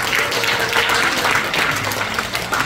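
Warm applause from an audience at a Korean alumni gathering, a dense, loud and steady wash of clapping with no talk over it.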